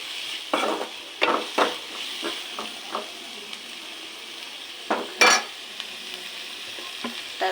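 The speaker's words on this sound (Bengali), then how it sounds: "এটাকে ভালো করে নেড়ে চেড়ে ভেজে নেব হালকা ব্রাউন কালার করে" Dried fish (shutki) frying in a pan crackles and hisses, while a spatula scrapes and clatters against the metal in irregular bursts, one of them louder than the rest.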